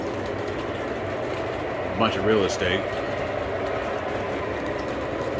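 A model train runs across a home layout, a steady low rolling rumble heard throughout, while someone talks briefly over it.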